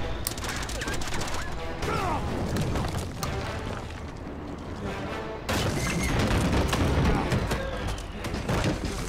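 A tank in the Uncharted 2 video game clatters and fires, loud overlapping blasts and metallic clacking through a dense battle soundscape, with voices speaking in between.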